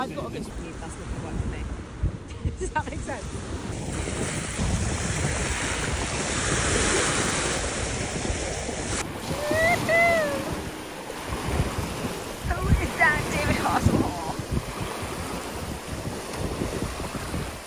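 Sea surf washing onto the shore at Goring on the English coast, a steady loud roar of waves with heavy wind buffeting the microphone and brief faint voices partway through.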